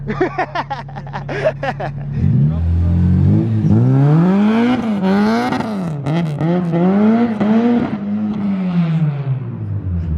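A Honda Civic EP3 accelerates hard, its engine note climbing and dropping through several gear shifts, loud and close throughout with no talking.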